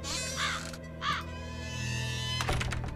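Crow cawing in a Nancy Drew mystery game, two distinct harsh caws in quick succession, clear and fairly close over a low steady ambient hum.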